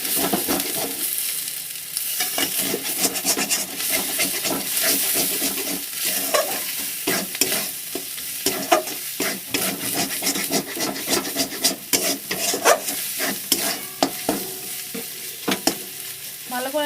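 Spices with Kashmiri chilli powder stirred into a frying fish-finger mixture in a pan: a loud, continuous sizzle with dense scraping and rubbing strokes throughout, close and busy.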